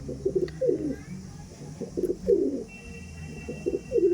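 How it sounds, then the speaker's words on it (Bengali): A female Andhra Kalshira pigeon coos in repeated soft, throaty phrases at close range, with a quiet background hum and faint sounds of movement. "এটা এই যে লাফালাফি বেশি করছে, এটা কিন্তু ফিমেল পায়রা"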